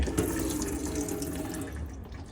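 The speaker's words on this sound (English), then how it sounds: "All right, so you just pour the hot water like I'm doing now" Hot water pours steadily from the sink tap inside an Elddis Sunseeker 140 caravan, a close, continuous splashing rush with no talk over it.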